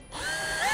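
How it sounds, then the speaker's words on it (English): A power drill with a 1/4 inch bit bores a hole for a third brake light camera switch on a 2016 Chevrolet, a close whine rising steadily in pitch as the bit spins up and cuts. "We're going to use a 1/4 inch drill bit to make our hole."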